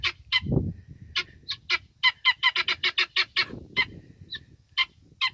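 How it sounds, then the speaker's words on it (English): Guinea fowl call repeatedly in a rapid, harsh, rhythmic series of loud squawks, close by, with no talking. "I just love hearing them guineas"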